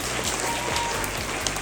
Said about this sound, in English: Let's give Ms. Bush a round of applause.